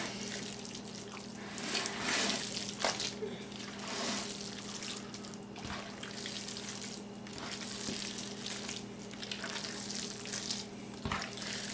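Water runs and splashes as it is worked into 20 pounds of ground meat for homemade sausage, a continuous wet, sloshing hiss with scattered squelches over a steady low hum.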